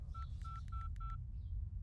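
A quick series of telephone keypad tones, about seven short beeps in an uneven rhythm over a low steady hum, fairly faint.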